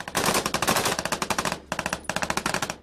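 Rapid machine-gun bursts in an Afghanistan firefight, near and loud, with a long continuous stream of shots, a brief pause, then a further string of sharp evenly spaced rounds.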